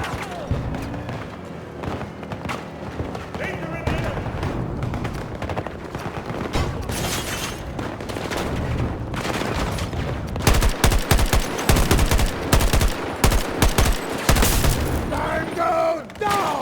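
Gunfire in the Battlefield 2042 game: dense, near automatic bursts and rapid shots that intensify into loud, sharp volleys over a rumbling battle backdrop, with occasional voices shouting in the mix.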